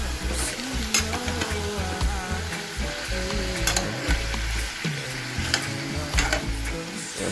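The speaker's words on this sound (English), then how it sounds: "I don't cover my pot right away, because I want for the pork to get fry up a bit" Pork sizzles and fries in an open pot for a brown stew, a steady loud crackling hiss with occasional stirring scrapes and clinks, heard up close with no speech.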